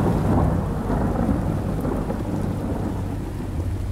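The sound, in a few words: rain and thunder in a cartoon horror story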